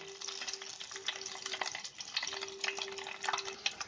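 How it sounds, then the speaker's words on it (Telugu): Eggs fry in hot oil with turmeric in a kadai, giving a steady, soft sizzle and crackle throughout. A faint, constant hum runs underneath, and no one speaks. "ముందుగా ఎగ్స్ వేయించుకుందాం"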